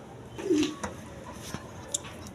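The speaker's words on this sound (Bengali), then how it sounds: "এক পেয়ার বোম্বাই কবুতর আছে" A Bombay pigeon pair coos in short low bursts, with a few faint chirps and rustles around them, moderately close in a quiet space.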